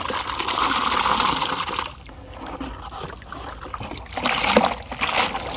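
Small catfish tipped into a farm pond, with splashing, trickling water and rustling over a steady outdoor background, a louder burst of splashing late on.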